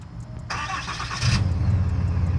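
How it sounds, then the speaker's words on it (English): A 2021 RAM 2500 turbo diesel pickup engine cranks briefly and catches, settling into a loud, deep, steady idle close by. "to hear what this turbo diesel sounds like, you're gonna double tap, give it a second"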